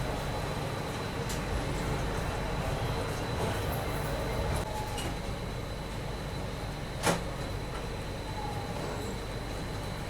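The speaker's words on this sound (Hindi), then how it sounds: "लगभग 6 मिनट की देरी से अभी अपनी ट्रेन निकल रही है आगरा कैंट रेलवे स्टेशन से।" A train pulls out of Agra Cantt railway station with a low, steady rumble of wheels and carriages, a faint squeal and a brief clank partway through, no talk.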